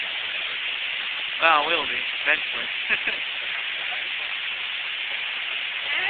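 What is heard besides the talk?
heavy rain during severe storm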